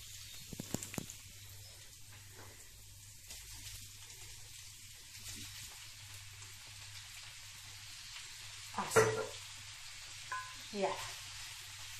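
Green beans frying in a pan with a soft, steady sizzle, close and quiet, broken by a few louder clatters and stirring scrapes.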